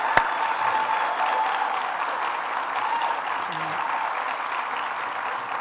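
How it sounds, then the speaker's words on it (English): Sustained audience applause at a governor's budget event in Rochester fills the room steadily and evenly, a dense wash of clapping from many hands at moderate distance with no talk over it. "let's give Deborah Hughes another round of applause for all your work"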